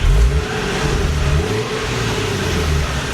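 Manual Infiniti G37 coupe with factory exhaust, a close engine revving briefly then holding a steady mid-pitched drone.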